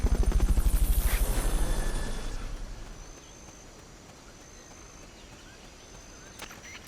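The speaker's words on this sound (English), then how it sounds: "Fulton recovery helicopter is complete." Helicopter from the Fulton recovery in the video game Metal Gear Solid: Peace Walker, a loud rhythmic rotor chop at the start that fades over a few seconds into a quiet background, with no talking.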